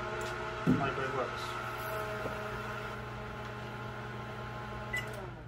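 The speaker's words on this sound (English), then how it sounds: "Microwave works." A microwave oven, just tested after work on its door switches, runs with a steady low electrical hum and layered tones, joined by a couple of faint clicks.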